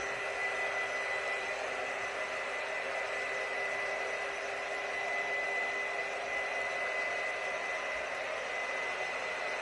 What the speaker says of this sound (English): we're gonna go ahead and use the heat gun really quickly